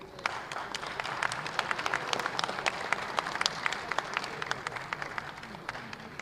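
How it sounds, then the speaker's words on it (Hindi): Audience applause at a state tourism board inauguration ceremony in Chhattisgarh as an honored guest is invited forward; a faint, sustained crowd clapping with scattered sharp individual claps standing out, heard from a distance. "जोरदार तालियां।"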